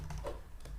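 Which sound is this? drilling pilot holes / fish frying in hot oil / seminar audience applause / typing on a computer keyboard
typing on a computer keyboard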